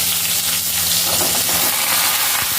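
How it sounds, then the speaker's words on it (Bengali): Ridge gourd frying in hot oil with nigella seeds, a loud, dense continuous sizzle and crackle close up, steady throughout with a few sharper pops near the end. "এবার ঝিঙেগুলোকে ছেড়ে দিচ্ছি।"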